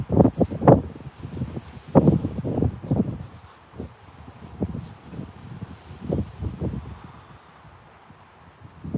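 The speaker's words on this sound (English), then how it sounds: "The wind's getting really windy too." Outdoor wind gusting against the microphone at a rainy site, low buffeting bursts coming and going unevenly, with some rustling.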